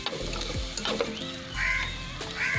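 Chopped beans and vegetables for hot and sour chicken soup sauté in a hot pan, giving a continuous close sizzle with spatula scrapes and stirring clicks, while a crow caws faintly in the background.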